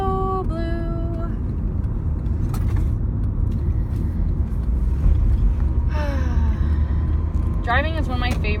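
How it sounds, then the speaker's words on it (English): Car interior driving in traffic, a steady low engine and road rumble throughout with occasional tonal sounds and brief vocal noises over it. "Driving is one of my favorite experiences."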